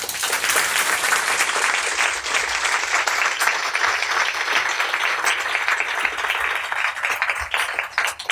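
An audience breaks into steady, sustained applause in a lecture hall, many hands clapping together at an even level for several seconds.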